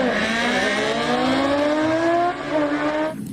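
A toy racing motorcycle makes a continuous, loud whining engine drone with slowly rising pitch, steady for about three seconds before cutting off abruptly.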